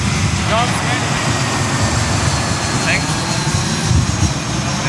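An airplane roars overhead at an outdoor wedding setting in the Cayman Islands, a loud continuous broadband engine rumble that dominates while a person speaks underneath.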